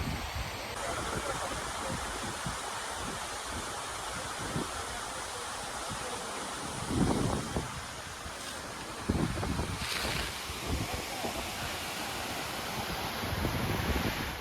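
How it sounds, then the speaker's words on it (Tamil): Loud rushing water and breaking waves at Kanyakumari with heavy wind buffeting the microphone, continuous and close, with a few stronger surges. "தண்ணி பார்த்தீங்கன்னா ரொம்ப ஸ்பீடாக போகுமா"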